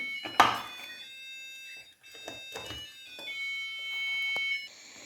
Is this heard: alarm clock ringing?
yes